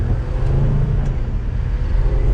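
A Mercedes 300D diesel accelerates at full throttle with the pedal on the floor, heard from inside as a loud, steady, droning road and engine rumble.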